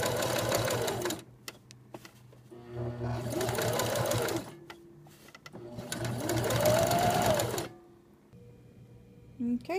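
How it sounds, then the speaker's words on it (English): A sewing machine stitches a half inch seam in three loud, steady whirring runs of a few seconds each, separated by brief pauses, close up with no talking. "We're going to sew with a half inch seam allowance."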